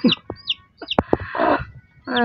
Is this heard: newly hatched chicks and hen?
yes